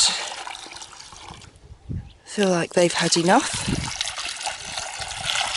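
Water trickles and splashes steadily in the background as it is poured for chickens on a farm, while a person speaks briefly over it, fairly close.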